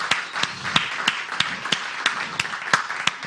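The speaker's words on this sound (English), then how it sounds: "Give them another round of applause." A church congregation claps for performers, a steady crowd applause with sharp regular beats standing out, moderately loud and continuous throughout.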